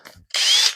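A power drill bores a small hole in wood for a router circle jig, a short loud whirring burst after a faint bump of handling, stopping abruptly.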